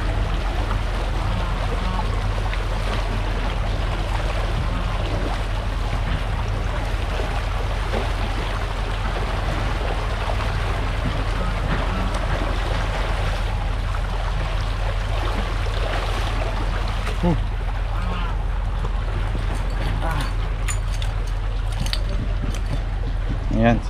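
A clean river flows steadily with a continuous rushing, trickling wash of water nearby, while people rinse muddy feet in it after a muddy wrestling match with a cobra catcher; occasional splashes break through the constant stream.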